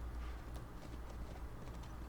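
Horse hooves clip-clopping in The Last of Us, a steady rhythmic series of quiet hoofbeats on the ground, faint and close, with no talking.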